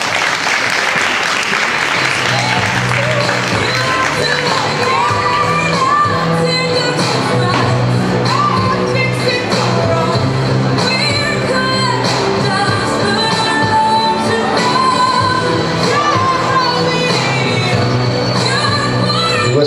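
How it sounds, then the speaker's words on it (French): Sustained audience applause at a Tex clothing fashion show, dense and continuous clapping from a crowd with a few faint shouts mixed in. "Applaudissez-les."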